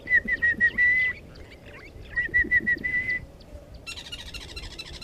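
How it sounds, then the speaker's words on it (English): An orange-breasted bushshrike calls in bursts of clear, repeated whistled notes, two sequences of several notes each, mid-distance over a low outdoor rumble, with other bird chirps around. "You can hear the orange-breasted bushshrike in the background."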